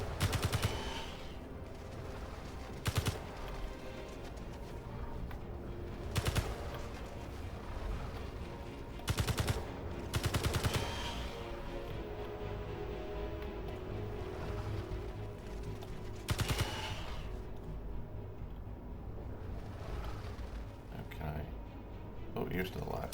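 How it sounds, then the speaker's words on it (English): Rifle fire in the Space Engineers video game on an alien planet comes as sharp, loud shots spaced irregularly over a steady ambient hum, with a couple of close doubled bursts. "Take my rifle. And I'm going to do a little bit of shooting."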